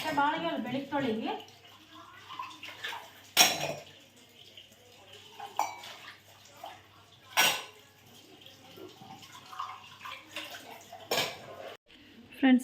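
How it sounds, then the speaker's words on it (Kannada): Dishes and pots being washed in a kitchen sink: clinks and clatters of metal utensils, sharp knocks of pans, and running water, close and intermittent, with occasional talking between. "ಪಾತ್ರೆ ಎಲ್ಲ ತೊಳೆದು ಅಡುಗೆ ಮನೆ ಕ್ಲೀನ್ ಮಾಡಿ, ಸಿಂಕ್ ಕ್ಲೀನ್ ಮಾಡಿ"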